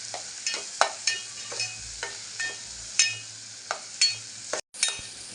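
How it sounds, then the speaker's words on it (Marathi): Tomato and onion sauté in spice masala with asafoetida for a drumstick dal: a quiet background sizzle punctuated by regular spoon scrapes and knocks against the pan, roughly one per second. "हे पण व्यवस्थित मसाल्यात टॅमेटो कांदा परतून घ्यायचा आपल्याला शिजेपर्यंत आपण दोन ते तीन मिनिटं असं परतरत घ्यायचं"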